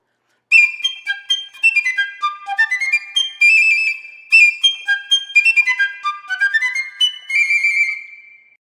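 A bright, piercing piccolo plays Sousa's Stars and Stripes Forever march melody with quick, clipped notes and short runs, loud and alone.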